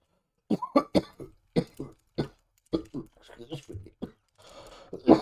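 A man coughs repeatedly, close to the microphone, in a run of short harsh bursts with brief pauses between them, ending in a rougher throat-clearing rasp.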